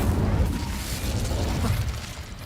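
Incendio fire spell in Hogwarts Legacy: a steady, muffled roaring rumble of flame and explosive bursts, fairly loud and continuous, easing slightly toward the end amid game combat noise.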